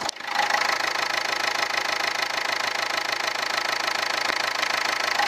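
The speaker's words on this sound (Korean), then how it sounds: "엔진 소리도 정숙한 디젤 소리만 나고 있었네요" A Renault Samsung SM5 Nova diesel engine idles steadily up close, a continuous knocking rumble with an even mechanical clatter throughout, no talking.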